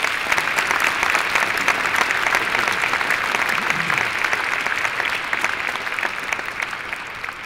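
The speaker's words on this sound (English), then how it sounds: "think the trio deserves another round of applause" Audience at a county executive inauguration ceremony applauds steadily, a dense, even wash of clapping that holds at full strength for the whole stretch and only slightly thins toward the end.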